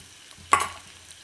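Sliced onion is tipped into a hot pan with garam masala, giving one sharp, bright sizzle burst that fades quickly into a low, steady hiss, fairly close and alone.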